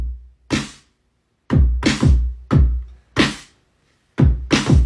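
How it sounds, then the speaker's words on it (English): Percussive hits in a loose pattern, each a punchy thump with a short sharp decay, some in quick pairs, separated by silences. "Then add some drums."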